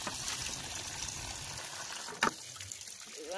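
Water runs steadily into a bucket in a rural village yard, a soft continuous rushing hiss broken by a single brief knock near the end.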